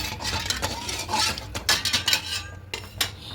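A spoon stirs salt into water in a cooking pot, giving off irregular metallic scrapes and light clinks against the pot, close up and with no talking.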